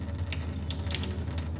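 Water runs steadily from a reverse osmosis faucet into a cup, a constant close hiss and trickle with no voices.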